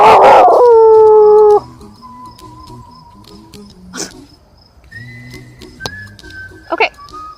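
A dog opens with a loud, close, wavering howl, then falls to quieter whines, thin whistling tones and a couple of short, distant yips.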